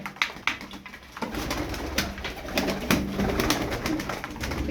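Arab tumbler pigeons cooing close by in repeated low throaty calls, with some wing flutters and rustling noise at the start.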